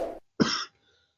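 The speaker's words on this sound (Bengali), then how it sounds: "হঠাৎ করে একটু কাশি লাগছে" A single person coughs twice in quick succession, close and dry, with a short throat-clearing quality, alone in quiet.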